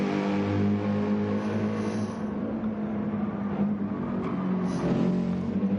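Race cars in Gran Turismo 7 circling Deep Forest Raceway, a steady loud engine drone with shifting revs that swells as cars pass, continuous throughout without talk.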